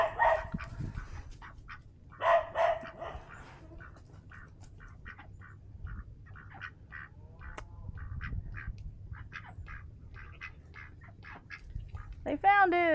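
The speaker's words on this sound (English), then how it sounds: "And here come the ducks." Ducks at a winter homestead farm quack in short repeated bursts at close range, a dog barks now and then, and a person talks over the scene.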